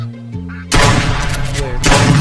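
Shotgun blasts in the Duck Season video game: after quiet humming, a sudden loud shot erupts with a long rumbling tail, then a second blast follows about a second later.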